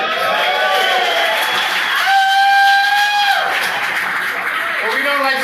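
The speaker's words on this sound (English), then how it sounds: "Round of applause for the Sons of Italy, everybody." A crowd at a Sons of Italy golf outing gathering applauds and cheers in a continuous loud wash of noise. Voices shout and a drawn-out whistle-like call rises above the roar for a moment.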